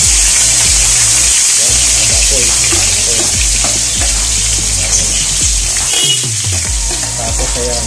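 Ginger sizzles loudly in hot oil in a heated pan, a dense steady frying hiss with stirring scrapes throughout, close and continuous.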